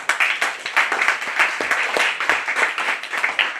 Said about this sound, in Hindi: तीनों लोगों का तालियों से अभिनंदन करेंगे